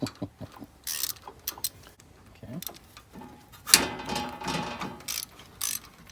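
Ratchet working on the starter bolts of an older Cub Cadet XT1 riding mower, with short clicking bursts and pauses between them, close and fairly quiet, plus a few metallic clanks.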